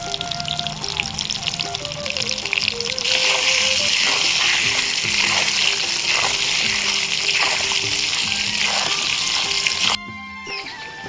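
Cut pointed gourd (potol) sizzling steadily in hot oil, a dense continuous crackle that stops abruptly near the end, close and fairly loud with no talking.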